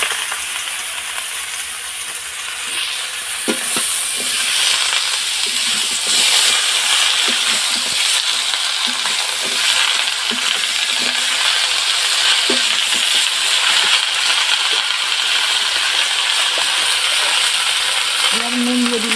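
Malabar spinach and pumpkin frying in a pan, a steady close sizzle and hiss throughout with occasional clinks and scrapes of stirring.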